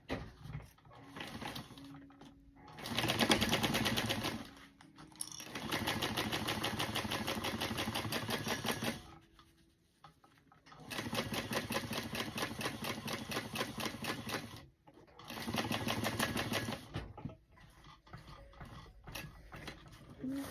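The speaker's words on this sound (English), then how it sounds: "we're gonna sew this together at 1/4 inch seam allowance." A sewing machine stitches a quarter-inch seam on a wallet card slot, running in several steady whirring bursts of a few seconds each, separated by brief pauses, close and fairly loud.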